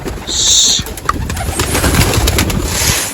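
Pigeons cooing close by on a rooftop, soft throaty calls repeating over a busy outdoor background, with a brief high tone at the start.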